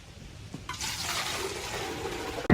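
Water poured over three trees and two idols makes a steady, close splashing rush. It starts after a brief quiet pause and runs about two seconds, ending in a sharp knock.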